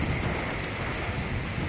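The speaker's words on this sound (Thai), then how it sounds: "สัตหีบนะครับฝนถล่มอีกแล้วนะครับ" Heavy storm rain pours down in Sattahip, a dense, continuous wash of falling water and drops hitting surfaces, loud and unbroken throughout with no voices.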